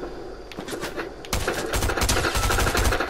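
Rapid bursts of gunfire from the video game Fortnite, loud and close, with staccato shots running together into automatic fire.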